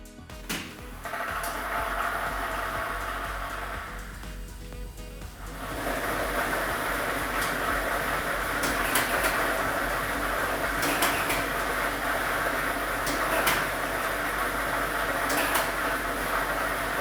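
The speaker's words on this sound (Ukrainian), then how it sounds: "Тиражна комісія до початку гри довільно обрала лототрон, а комплект кульок номер 3 І ми вмикаємо Лототрон." A lottery ball drawing machine runs for a state lottery draw, producing a continuous loud whirring rush of tumbling balls and blowing air with scattered sharper clacks, building after a short quieter start.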